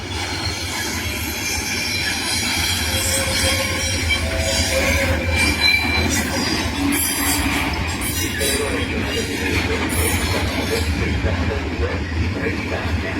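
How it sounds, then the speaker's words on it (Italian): A regional train from Bologna Centrale to Venezia Santa Lucia pulls into an Italian station platform, a steady loud rumble of rolling wagons with wheel squeal and rail noise running throughout, no talk over it. "Attenzione! Treno in arrivo al binario 9. Allontanarsi dalla linea gialla."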